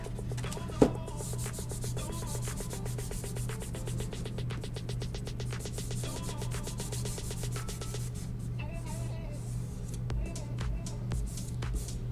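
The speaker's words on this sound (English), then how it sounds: "and sand the edges." Edges of a handmade fall craft piece are sanded with steady back-and-forth rubbing strokes, close and moderately loud, with one sharp knock near the start and no talking.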